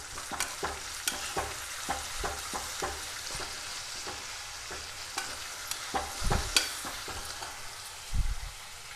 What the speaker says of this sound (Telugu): ఇప్పుడు మనకి ఉల్లిగడ్డలు బాగా బ్రౌన్ కలర్ వచ్చేంత వరకు వేయించుకోవాలి.